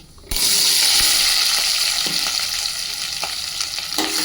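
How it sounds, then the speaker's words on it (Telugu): Onions frying with mustard and cumin seeds in a steel pot, a loud close sizzle that bursts in suddenly, with a few sharp clinks and stirring knocks on top of it. "ఇప్పుడు ఇందులో ఉల్లిగడ్డ నేను పెద్ద కట్ చేసుకున్నాను అనమాట ఇట్లా"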